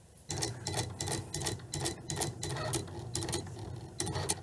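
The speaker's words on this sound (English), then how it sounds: "the machine will do both the drawing and the cutting for me" A Cricut cutting machine drawing on and cutting smart material for gift tags, a steady mechanical ticking and whirring with regular carriage pulses, close and moderately quiet, with no talking.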